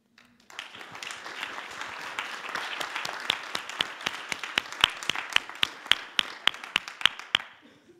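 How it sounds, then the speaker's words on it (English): A crowd applauds at an anniversary celebration of the UNEP/UNESCO/BMUV Environmental Management Training Programme. Many hands clap in a dense, steady roar that starts suddenly, with sharper individual claps standing out near the end. "thanks for this round of applause"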